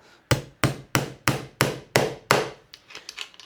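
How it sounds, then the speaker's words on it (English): A hammer taps a bolt into threaded metal parts with seven loud, evenly spaced blows, followed by a quicker run of lighter taps, close and clear with no talk. "This is just a bolt with exactly the same thread as these pieces. And we're just going to tap that in."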